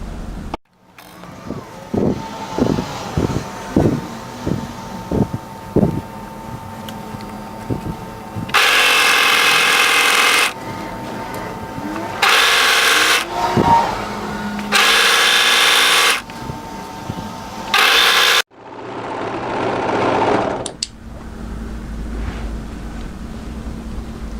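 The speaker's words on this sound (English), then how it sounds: "start overlocking that shoulder seam together" Overlocker stitching a shoulder seam on a dolman batwing top, with bursts of rapid mechanical whirring separated by short pauses and a few single thumps, close and loud.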